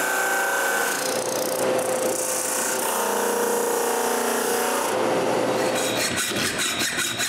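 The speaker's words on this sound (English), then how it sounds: "I fix this with the drum sander." A drum sander works on wood parts for a wooden tripod, a steady loud whirring grind that runs continuously throughout with a sustained tonal hum, no voices present.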